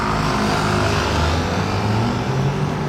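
Ferrari 296 Speciale sports car passing by, a loud continuous engine roar with a low droning exhaust note holding steady throughout, no voices over it.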